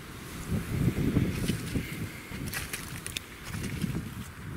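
Gusty wind buffets the microphone in a garden, with low rumbling bursts that swell and ease in uneven waves over steady background noise.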